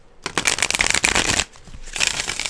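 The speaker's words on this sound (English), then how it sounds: "I can shuffle it fine" Tarot cards riffle and slap together in two quick bursts of shuffling, close up, separated by a brief pause.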